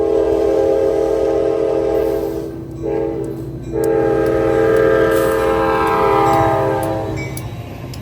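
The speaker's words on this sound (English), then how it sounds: "we have an inbound train with Loco 122 at the lead" An inbound commuter train led by locomotive 122 in Nashville sounds its horn in long sustained blasts with a brief gap, over a steady low rumble of the engine and rolling cars, loud and close.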